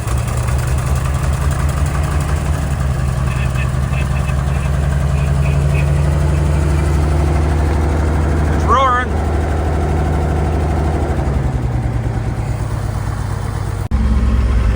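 The engine of a 1953 Chevy mega truck runs at a steady, loud idle, close by and continuous, with a brief whine near the middle and a voice heard over it.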